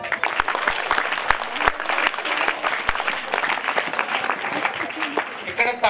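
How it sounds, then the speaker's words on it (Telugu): An audience of parents and students applauding at a school event, a steady wash of clapping with a voice speaking over it. "okay, claps"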